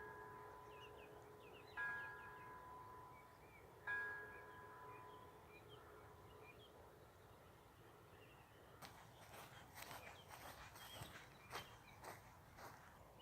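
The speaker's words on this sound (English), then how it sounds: "Nine o'clock bells." Church bells ring at nine o'clock in the French countryside: two distinct, fairly distant chimes with a lingering ring, followed by faint rustling and scattered outdoor sounds.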